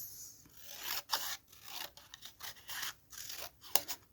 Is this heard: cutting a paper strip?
yes